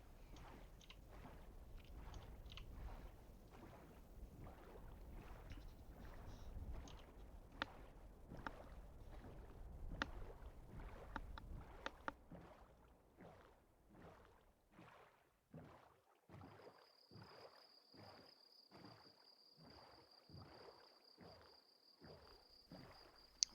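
Paddles of a rowboat in Minecraft splash in a steady, repeating rhythm, quiet and close. A faint sustained tone joins partway through.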